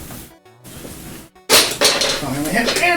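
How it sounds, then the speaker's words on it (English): Spatulas drop and clatter onto a kitchen floor in a sudden burst of metallic clinks and bangs, loud and close, after a quieter stretch with faint kitchen sounds. "And I'm dropping my spatulas."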